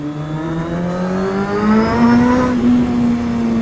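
A motorbike engine runs steadily with rising pitch as it revs up, loud and close, with no talk over it.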